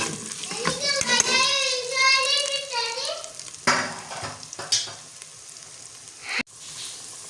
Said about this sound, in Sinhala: දැන් අල ටික දානවා.